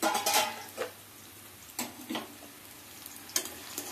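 Chopped onion and green chili frying in a pan, a low steady sizzle with several sharp scraping stirs of a spoon against the metal, close and fairly quiet, no talking.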